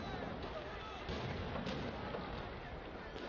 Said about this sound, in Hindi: मुख्तलिफ शहरों में इस वक्त आतिशबाजी का मुजाहरा किया जा रहा है